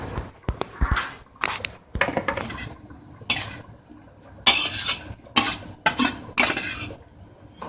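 Cooked couscous being spooned back into a mixing bowl, with a series of scraping, clinking utensil strokes against the dish in irregular bursts separated by short pauses.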